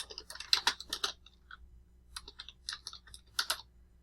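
Quick, quiet clicks of keys on a computer keyboard come in short clustered bursts separated by brief pauses, close and clear against a faint background hum.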